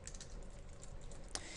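Computer keyboard typing while writing Java code, a soft, steady patter of keystrokes close by, quiet and continuous with one sharper click near the end.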